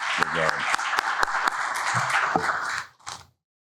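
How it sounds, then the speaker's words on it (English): Audience applause at a medical meeting on spinal osteodiscitis: steady clapping runs for nearly three seconds with a voice over it, then cuts off and leaves a short, quieter tail. "So just a quick round of applause for Sina and his efforts"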